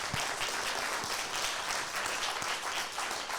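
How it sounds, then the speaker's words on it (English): A dinner crowd applauds a speaker steadily, many hands clapping in a dense, even patter at moderate distance, with a few sharper claps standing out. "a round of applause, please?"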